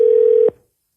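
A single steady telephone tone from an auto-dialer sounds loud and close for about half a second, then cuts off abruptly into silence.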